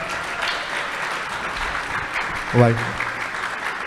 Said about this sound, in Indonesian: Boleh dong minta tepuk tangan yang lebih meriah lagi untuk keempat narasumber kita yang sudah hadir.